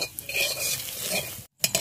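A spatula cuts and stirs a fried egg in a pan, making close, steady scraping with a light sizzle of oil underneath, then a brief pause and a few sharp scrapes at the end.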